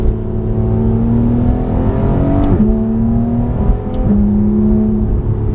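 A Porsche 911 GT3 engine revs hard and loud, climbing in pitch through two quick upshifts with brief dips between, heard from inside the car with steady engine drone throughout.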